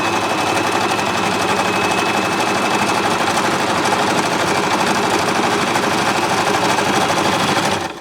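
A Baby Lock Zest sewing machine runs steadily, stitching knit rib fabric with a continuous loud whirring needle rhythm that holds for about eight seconds before stopping abruptly.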